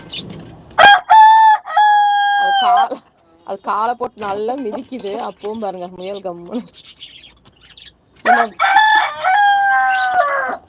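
A Kairali breed rooster crows twice, loud and close, with long ringing calls at the start and end and a person talking between them on a rooftop where country chickens are kept.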